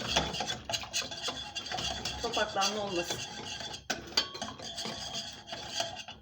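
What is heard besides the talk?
whisking a mixture with a hand whisk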